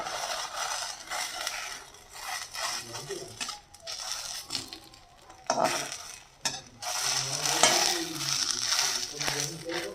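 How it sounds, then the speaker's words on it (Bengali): A spicy fish-filled patishapta, a flour-batter crepe, fries in a pan and is flipped, giving a steady close sizzle with scraping and utensil clatter while someone talks. "এই যে এইভাবে করে উল্টি পাল্টি ভেজে নিতে হবে।"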